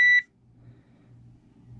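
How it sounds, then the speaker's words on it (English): One short, high electronic beep sounds at the start as a GoldenMate UPS powers on, then only a faint low hum remains. "It beeps."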